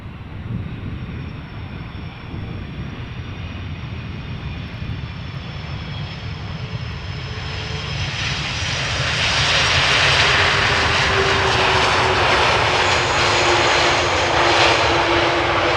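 An aircraft landing on the Polderbaan runway at Amsterdam Schiphol Airport, heard as a steady engine drone that swells louder from about eight seconds onward. No one speaks.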